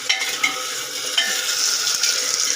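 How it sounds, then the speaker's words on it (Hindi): Taro root (arbi) fries in a pan with a bright, steady sizzle, while soft scrapes and stirring knocks sound up close over a few seconds. "ये अरबी भी थोड़ी सी फ्राई सी करती है"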